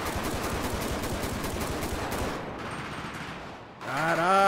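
Sustained gunfire exchange in the video game GTA V, dense rapid bursts of automatic and repeated shots filling the scene, briefly easing before resuming loud near the end.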